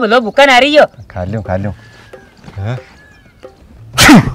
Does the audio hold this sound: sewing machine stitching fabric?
no